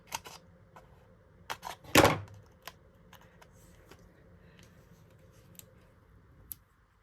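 Scissors cut a piece of paper card in half for a handmade card, one crisp close snip in the middle, surrounded by light taps and paper rustling on a quiet table.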